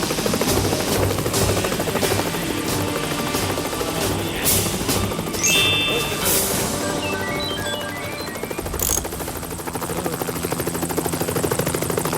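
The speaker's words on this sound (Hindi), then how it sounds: "मिस्टर चंकू ने अपने टूटे फूटे हेलीकॉप्टर को जोड़ तोड़ के उड़ने वाला बना ही लिया" Cartoon helicopter, cobbled back together after being broken, whirring steadily and loudly for the whole stretch, with clattering bangs, rattles and a few bright electronic blips mixed over the constant rotor chop.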